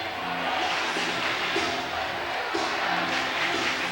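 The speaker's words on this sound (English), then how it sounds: "Excellent crowd on hand for both schools." A packed high school gym crowd murmurs and chatters before the opening tip of a 2011 Continental versus Kalida Putnam County League basketball game, a dense, steady wash of many voices with occasional louder bursts.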